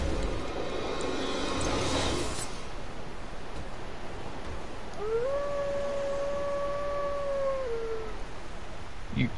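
Sif, a dog in a video game, lets out a single drawn-out howl that holds steady and then drops, preceded by a burst of noisy game sound over a hissy background.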